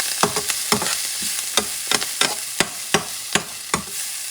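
Chopped garlic sizzles in a pan for Puerto Rican stewed dried peas, a steady frying hiss broken by about a dozen sharp spatula scrapes and taps at an uneven pace, close and fairly loud.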